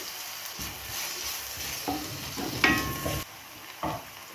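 Chopped onions, ginger and garlic frying in hot oil, a continuous close sizzle with a few utensil scrapes and stirring knocks, no voices.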